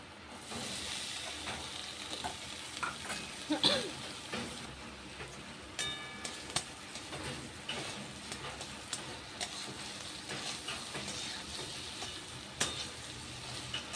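Potatoes for alur dom fry quietly in a pan with garam masala tempering, giving a soft, fairly distant sizzle broken by scattered clicks and clinks of utensils, with no talk.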